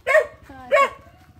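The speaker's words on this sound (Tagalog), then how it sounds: "Naghalit yung aso." A dog gives two sharp, angry barks in quick succession, close and loud, with a brief whine trailing between them.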